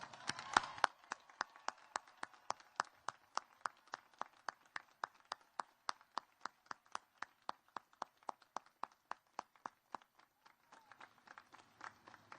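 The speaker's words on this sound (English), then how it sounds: "Please join me in a heartfelt round of applause." Applause at a Coast Guard Academy graduation ceremony, heard as faint, distant, evenly spaced single claps continuing for about ten seconds after a brief burst at the start, then fading out.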